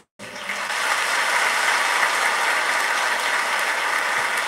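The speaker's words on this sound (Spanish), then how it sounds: "Dale ese aplauso grande al Señor." A congregation applauding during a healing Mass, steady dense clapping that starts abruptly and holds at a constant loud level throughout.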